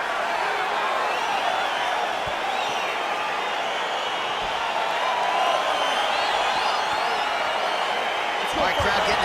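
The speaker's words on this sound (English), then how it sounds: "crowd getting excited as this fight gets underway" A video game arena crowd roars and cheers steadily as a UFC fight gets underway, a dense continuous wall of noise with no pauses.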